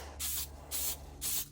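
Light mists of spray paint on a miniature dragon, three short hissing bursts evenly spaced, close and soft, with quiet pauses between them.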